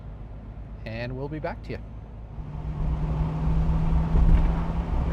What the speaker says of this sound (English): Do a little cold start here. She fires right up.